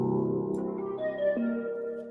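A beat loop built in another music production program plays back steadily, with sustained tonal layers and a few gliding pitches, at moderate loudness with no talking.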